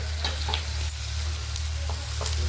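Onions frying for rice, a soft continuous sizzle over a low steady hum, with occasional light stirring scrapes and clinks of a spoon.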